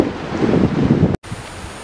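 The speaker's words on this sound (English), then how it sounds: "very, very windy as we cross over the bridge" Strong wind on a bridge along the Bright Angel Trail in the Grand Canyon buffets the microphone in a continuous roaring rush, cutting out briefly before resuming slightly quieter.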